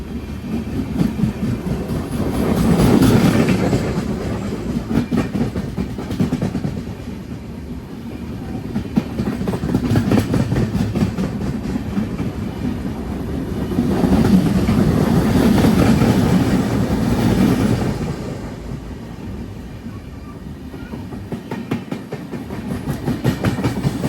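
Konkan Kanya Express sleeper train hauled by a WP4 locomotive rolls slowly along the Konkan Railway, its wheels beating a steady clickety-clack with swelling rumbles of carriages passing over the rails.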